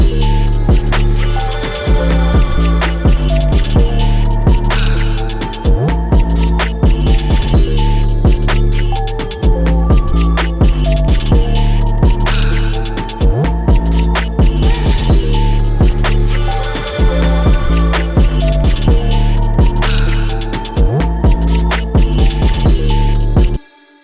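Full verse section of a trap beat, made in Ableton Live, with drums, booming 808 bass and layered melodic sounds playing loud and continuous before stopping abruptly at the end.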